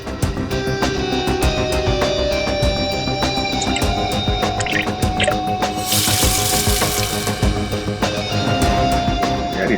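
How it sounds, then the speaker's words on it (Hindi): Water pours and splashes steadily out of an emergency speaker inside a lift, a continuous loud gushing with a brief brighter surge partway through. "पानी यहाँ स्पीकर से आया और वो गीला हो गया।"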